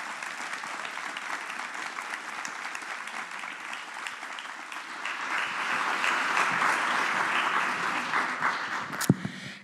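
A large audience gives a warm, sustained round of applause for a Justice at a law event, the clapping steady throughout and swelling slightly toward the end, with a sharp clack near the close.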